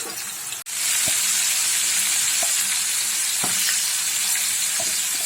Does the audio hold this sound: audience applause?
no